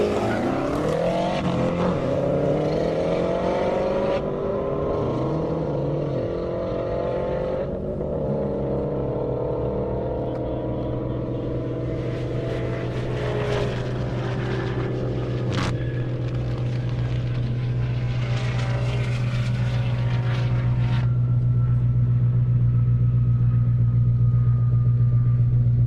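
A BMW M5 Competition and a Subaru WRX STI drag racing on a half-mile airport strip, engines roaring loud and close with sustained droning rumble and rising gear pulls, occasional sharp bursts over steady engine noise.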